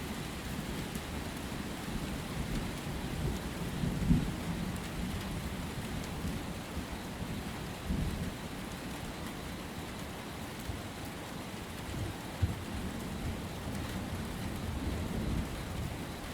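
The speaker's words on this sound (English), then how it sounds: "The lightning was much farther than I thought, and it took like 5-6 seconds for the thunder to arrive." Steady heavy rain falls in the Amazon rainforest, with low rolling thunder rumbling through the downpour at a distance and no voices.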